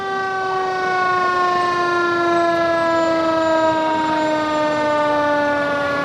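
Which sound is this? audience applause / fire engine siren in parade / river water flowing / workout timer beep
fire engine siren in parade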